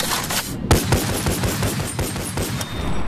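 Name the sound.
gun mag dump, rapid gunfire in video game Bonelab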